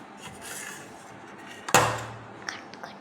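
A sharp single poke punches a hole in the side of a paper craft piece, a crisp tap and crackle of paper after a quiet rustling lead-in, followed by a few faint small taps.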